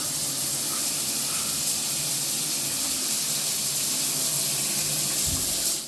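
Hot water runs from a shower head in a bathroom shower, a loud continuous hissing spray that stays steady throughout.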